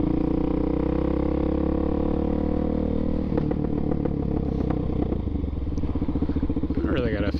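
A DRZ400SM motorcycle fitted with an MRD Z-PRO exhaust rumbles steadily up close, then breaks into a run of sharp, irregular pops and crackles on deceleration, loud and continuous with no talk over it.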